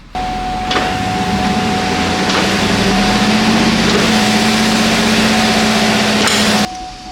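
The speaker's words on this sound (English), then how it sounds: "let me rack it and we'll put those wheels up in the air and get them spinning" A Cadillac Escalade raised on a shop lift, engine running with its wheels spinning in the air while wheel speed sensors are checked for an ABS light fault; a steady loud mechanical drone with a whining tone and occasional knocks, ending abruptly.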